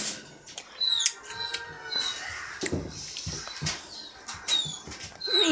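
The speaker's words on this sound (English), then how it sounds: "That's our dog." A pet dog indoors gives several short, high whimpers and squeaky whines in scattered bursts, fairly faint against quiet room noise.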